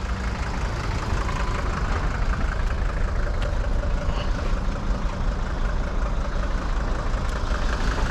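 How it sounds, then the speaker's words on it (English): A 1979 Mercedes 300 diesel coupe idling after warming up, a steady close rumbling diesel clatter that holds an even level throughout, with no voices over it. "So it's been running for about 20 minutes. It's kind of just getting warmed up."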